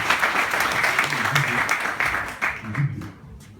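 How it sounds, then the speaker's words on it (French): Loud, sustained applause from a crowd at a live stage hypnosis show, steady clapping filling the room with a few voices faintly mixed in beneath it. "Très bien, on peut l'applaudir très fort."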